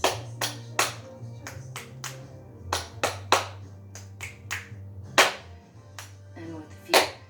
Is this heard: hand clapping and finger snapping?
yes